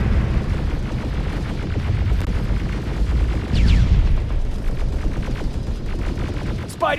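Gunfire in a Terminator video game, a dense barrage of rapid shots and booming blasts layered over a continuous low rumble, loud and sustained, with a few sharp whistling effects near the end.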